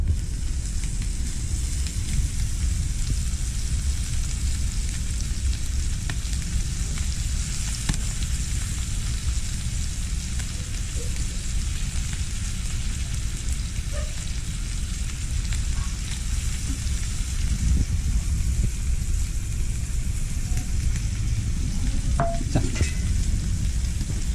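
Fish curry frying in a pan over a wood-fired clay stove gives a steady, close sizzle and crackle throughout, with occasional light scrapes of a spoon stirring it.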